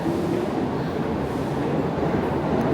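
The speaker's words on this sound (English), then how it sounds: "This is my train down here." A New York subway train under Canal Street station, a dense continuous rumble and rattle of rolling cars in an enclosed underground space, steady and fairly loud throughout.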